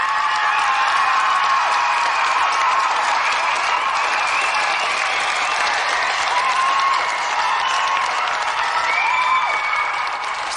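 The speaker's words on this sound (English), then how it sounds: "let's have a round of applause for both our semi-finalists, Greg Watson and Gary Harrod" A television game-show studio audience applauds the two semi-finalists, giving sustained, even clapping mixed with some cheering and whoops that continues throughout.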